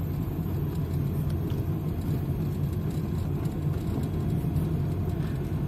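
An older 2001 Hyundai Accent rolls along at low speed, giving a continuous, even low rumble of engine and road noise from inside the car with no clear changes. No voices are present.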